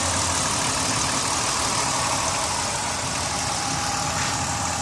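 The 3.3-liter V6 of a 2005 Dodge Caravan SE wheelchair van idles under the open hood, a steady, even engine drone heard up close without any talking.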